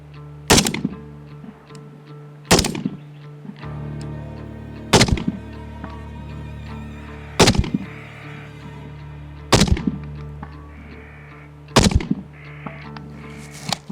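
Rifle firing TelaAmmo 7.62×39 rounds at a 300-yard target, six loud sharp reports spaced roughly two seconds apart, each followed by a short ringing decay, with outdoor background in between.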